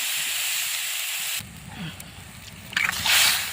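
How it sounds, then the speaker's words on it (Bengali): Water is poured into a hot pan of tomato and potato curry. A loud steady hiss and sizzle breaks off into bubbling and sloshing, then rises into a burst of steam. "এবারে জল দিয়ে দেবো।"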